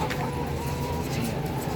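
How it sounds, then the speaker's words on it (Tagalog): Organic chickens at a poultry farm cluck in a dense, busy flock, with overlapping calls and rustling close by under a steady low background hum. "Ito po yung mga manok na organic na manok."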